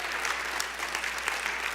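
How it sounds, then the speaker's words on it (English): An event audience gives a round of applause, with continuous, even clapping from many hands held at a steady level throughout. "So let's give them a round of applause, please"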